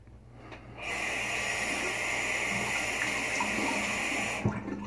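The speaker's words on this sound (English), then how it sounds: "The sticking to my blade a little bit after I rinse it off." Tap water runs steadily into a sink as a straight razor blade is rinsed during a shave, a continuous close stream that starts abruptly and cuts off with a small knock at the end.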